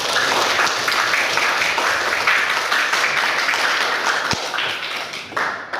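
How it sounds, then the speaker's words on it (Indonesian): Classroom students clap together, a loud close patter of many hands that stays dense and steady, with one sharp thump partway through before the clapping tapers off near the end. "boleh tepuk tangan untuk kita semua"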